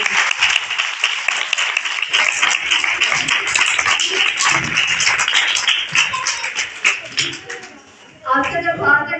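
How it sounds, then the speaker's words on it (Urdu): Church congregation applauding loudly in praise, a dense sustained wave of clapping that fills the room, dipping briefly near the end before rising again. "خدا کے جلال کے لیے زوردار تالیاں"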